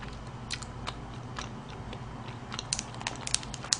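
Someone chews a flour-dusted chapssal-tteok, a soft sticky rice cake, with quiet, close bites and faint squishing mouth sounds that grow a little sharper toward the end, with no talking.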